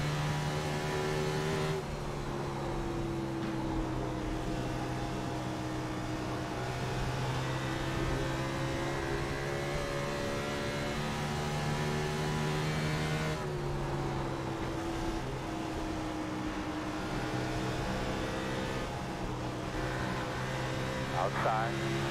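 Race car engine in a racing video game at Dover, holding a steady high drone with shifting harmonic pitch as the throttle is fed back in after front tire slide, loud and continuous with faint talk underneath.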